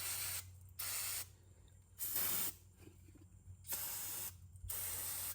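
Brake cleaner sprayed onto front brake parts of a 2014 Jeep Patriot in five sharp, loud hissing bursts of varying length, separated by short quiet pauses.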